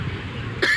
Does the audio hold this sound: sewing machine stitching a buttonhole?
no